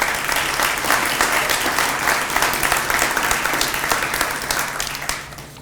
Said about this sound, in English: Clap for the singers and the actors.